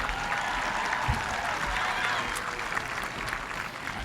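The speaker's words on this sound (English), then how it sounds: "Another round of applause for our young ladies here." Audience applause at a Colgan High School graduation ceremony for the class of 2018, a steady broad wash of clapping lasting throughout, fairly close and even, with no talk over it.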